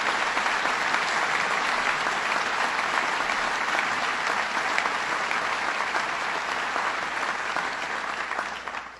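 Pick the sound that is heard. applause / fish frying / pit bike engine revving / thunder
applause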